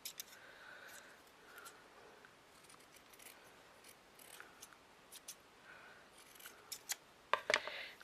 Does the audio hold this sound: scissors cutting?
yes